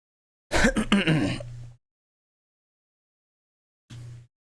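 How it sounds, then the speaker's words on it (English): A man clears phlegm from his throat in one long, rough, gravelly rasp ending in a low hum, then after a silent pause gives a second, shorter and quieter throat-clearing grunt. "Just the sounds of phlegm."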